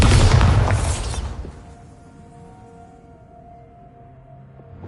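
A Bombarda spell blast in Hogwarts Legacy, one loud booming explosion that rolls off into a fading rumble, followed by a quiet low hum with a faint tonal drone.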